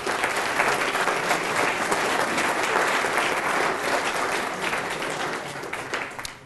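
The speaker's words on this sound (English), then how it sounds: "give David a round of applause for his" Sustained audience applause closing a presentation at an urban innovators speaker series, a dense, steady wash of many hands clapping throughout, tapering slightly toward the end with no talk over it.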